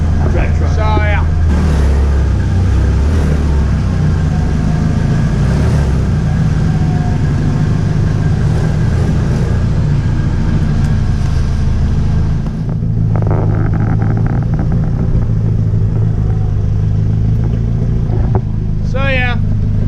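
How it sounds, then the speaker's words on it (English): A Nissan S13 engine runs as the car drives, a steady mid-pitched drone throughout with a brief dip partway through, while people talk over it close to the microphone. "So yeah, the car moves."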